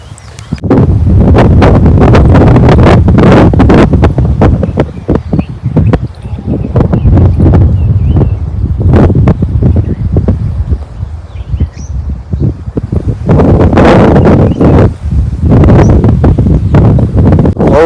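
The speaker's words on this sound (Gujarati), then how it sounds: "પવન ઘણો બધો આવે છે." Strong wind buffets the microphone outdoors on a farm field, with loud rumbling gusts that rise and fall continuously and no talk.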